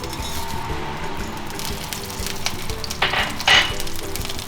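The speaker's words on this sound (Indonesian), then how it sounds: "Ini wajannya udah panas, kita bisa masukin margarinnya." Margarine sizzling in a hot wok while making sauce for butter-fried shrimp, a close, continuous frying hiss with a couple of brief louder flare-ups toward the end.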